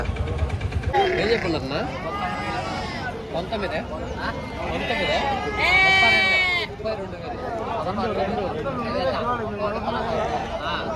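Sheep bleat repeatedly at a busy rams' market in Pileru, wavering calls near and far over crowd chatter and passing motorcycle engines.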